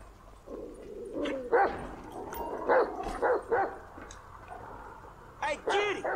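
Chop, the dog in GTA 5, lets out a string of yips and barks at irregular intervals, mixed with other game sounds, while someone talks.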